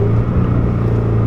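A 2017 Shelby GT350 V8 engine burbles steadily through a downshift while cornering, a loud close low drone holding under the cabin with no talking.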